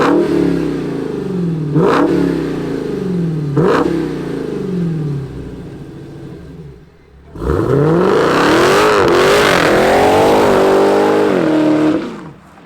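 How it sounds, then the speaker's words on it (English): A supercharged V8 in a 2022 Dodge Challenger Super Stock idles with a deep rumble, blips sharply twice, then drops briefly before a long, loud rev that climbs with supercharger whine, close up with no talking. "let's hear the sound of this Supercharged V8 in our Superstock."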